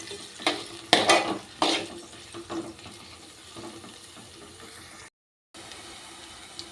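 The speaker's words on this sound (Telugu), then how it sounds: "ఇవన్నీ కూడా చక్కగా ఇలా ఆయిల్లో ఫ్రై అయిపోయాయండి" Green chillies and mint fry in oil, a low sizzle broken by several sharp scraping stirs early on, then a quieter hiss with a brief gap of silence near the end.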